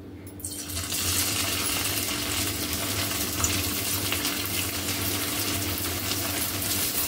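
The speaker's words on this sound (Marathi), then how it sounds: "आता मी तळून घेते वडी" Coriander fritters made with millet flour sizzle steadily in hot oil in a kadhai, a dense, continuous bubbling hiss that stays close and even throughout with no talking.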